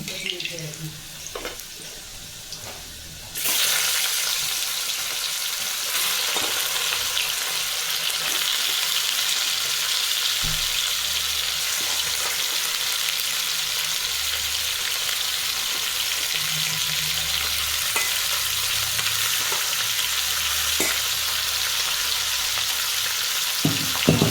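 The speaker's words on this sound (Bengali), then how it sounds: "আলুর সাথেই চিকেনটা দিয়ে ভেজে নেব" Chicken and potatoes fry together in a pan, a loud continuous sizzle that starts abruptly after a few quieter seconds and holds steady with occasional stirring clicks.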